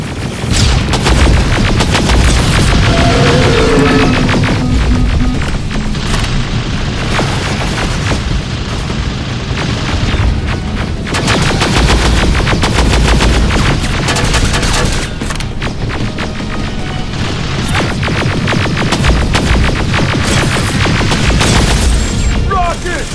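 Gunfire and explosions from the video game Terminator: Resistance, dense and loud throughout with rapid bursts and booms, mixed with shouting voices.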